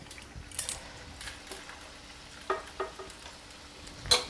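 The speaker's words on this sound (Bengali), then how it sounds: "কচুরিটা ভাজতে একটু সময় লাগবে" Masala aloo kachori deep-frying in oil, a soft background bubbling punctuated by several light metallic clinks and scrapes of a utensil against the pan, no speech.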